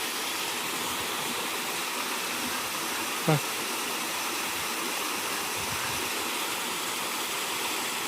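Irrigation pump water pours steadily from a motor outlet into a bunded field, a dense, constant rush with one brief sharp click partway through.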